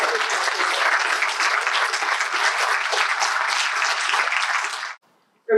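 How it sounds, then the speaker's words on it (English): Sustained audience applause for the graduating Year 12 class of 2020 at their graduation ceremony, even and full for about five seconds before stopping abruptly, followed by a brief silence. "give a round of applause to all our wonderful new"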